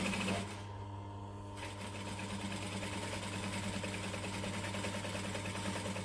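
A sewing machine runs slowly and steadily while fabric is pulled through, giving a continuous low mechanical hum with a faint rattle, close and alone without talk.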